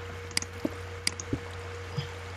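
Water trickles into a mine in the video game Minecraft, heard as scattered soft drips and squishy plops at irregular intervals over a low steady hum, with no voices.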